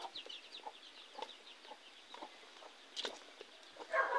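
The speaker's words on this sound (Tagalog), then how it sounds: "Manok." Chickens on a rural farm give soft, repeated clucks and short calls, close and fairly quiet, with a sharper squawk toward the end and no speech.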